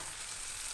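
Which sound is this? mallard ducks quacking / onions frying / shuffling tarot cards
onions frying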